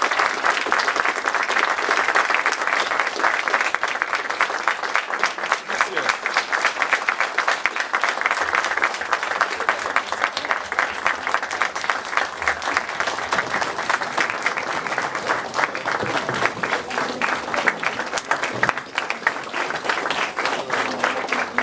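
Sustained, dense applause from an audience at a college panel discussion on nuclear weapons, steady and loud throughout with many overlapping hands clapping continuously and no pause.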